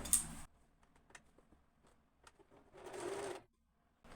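A sewing machine stitches a fall onto a slippery silky saree in short bursts, with a brief run at the start and a longer whirring run later, separated by quiet pauses and small clicks.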